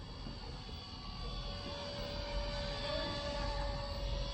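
An XK K170 Black Hawk UH-60L scale RC helicopter flies with a steady, high-pitched electric motor and rotor whine that holds constant, moderately close, with no talking.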